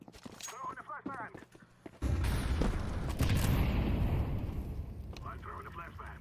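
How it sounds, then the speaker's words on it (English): Flashbang grenade going off in Counter-Strike 2: a sudden loud blast followed by a roaring, ringing wash that slowly fades over several seconds, with voices talking before and during it. "Throwing a flashbang!"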